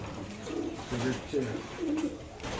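Pigeons coo in soft, repeated low calls at a pigeon seller's stall, several phrases in quick succession, faint amid background noise.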